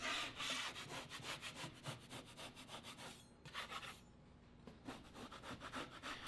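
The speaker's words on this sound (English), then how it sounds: "I gave it a very light sanding with 220 grit on my orbital sander" Orbital sander with 220 grit paper lightly sanding dried drywall mud, a close rhythmic rasping scrub repeating in quick strokes, fairly quiet, with a brief pause partway and no talk.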